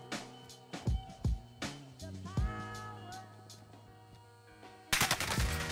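Rapid weapon gunfire in Warzone, a quick run of sharp shots early on, a tonal in-game effect in the middle, then a dense loud burst near the end.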